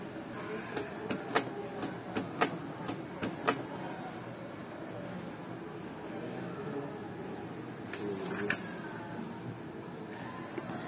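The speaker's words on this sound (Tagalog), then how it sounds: "Pag nag-stable yung ilaw nito, ibig sabihin tapos na mag-cleaning yung printer mo." A Canon MG3070s inkjet printer running its head cleaning cycle, a steady mechanical whir with a series of sharp clicks and clacks spaced through it, fairly close and moderate in level, with no talk over it.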